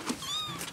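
A mother cat guarding her kittens gives a single short, thin meow close by, set against a soft background hiss.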